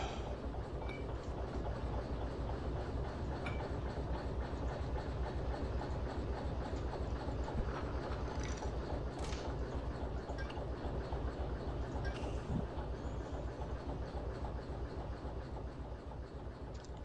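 A freight train with a caboose rolls along in the Derail Valley simulation game, a continuous low rumble with a rapid, even clatter of wheels on track, steady and moderately quiet throughout with a few faint clinks.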